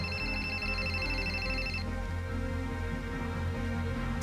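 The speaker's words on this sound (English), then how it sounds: "Your purse is ringing." A telephone rings insistently from inside a purse, a steady, loud electronic ringtone that repeats without pause and fills the moment on its own.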